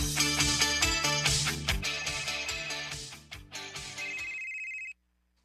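Mobile phone ringtone, a loud melodic ringing pattern with repeated bright tones that plays steadily for about five seconds and then cuts off into silence, with no talking.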